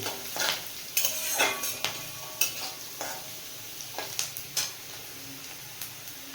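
Chopped green chilies fry with garlic in a pan, with a steady sizzle broken by irregular metal spatula scrapes and clinks against the pan. The sound is close and moderately loud, and no one speaks.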